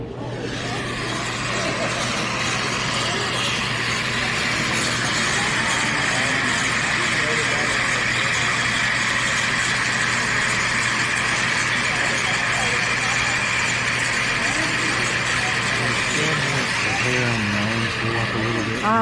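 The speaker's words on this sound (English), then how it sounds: "Here's a video of the truck running." A handmade custom Ford truck engine runs steadily and loudly, a constant close rumble held without revving for the whole stretch.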